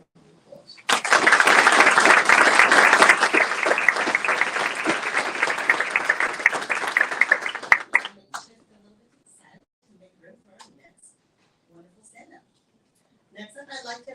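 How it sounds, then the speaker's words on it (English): Loud, dense applause from an audience at a school board meeting honoring a student, lasting about seven seconds before stopping abruptly, followed by near silence with faint scattered noises. "Let's give her a round of applause."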